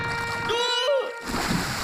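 Cartoon characters of Oggy and the Cockroaches splash into water, a brief slosh under overlapping cartoon voices and a rising whistle-like tone.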